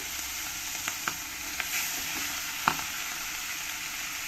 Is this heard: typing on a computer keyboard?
no